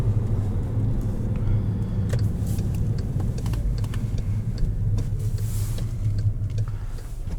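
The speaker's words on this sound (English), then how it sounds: "Tons of power from this turbocharged 4-cylinder." A 2017 Volkswagen Jetta GLI with a turbocharged four-cylinder and manual gearbox driving, a dense low road-and-engine rumble with scattered clicks and ticks from the cabin throughout.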